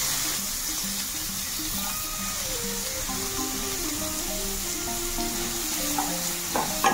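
Sliced onions fry in a pan for a mushroom (chhatu) masala curry, giving a continuous close hiss and crackle of sizzling oil, with a faint melodic tune playing softly underneath and a couple of light clinks at the end.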